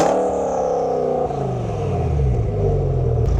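Audi RS6 C6 V10 biturbo engine revving in neutral against its roughly 4000 rpm limiter, a loud, close, steady engine drone with harmonics that shift and drop partway through, no talk over it.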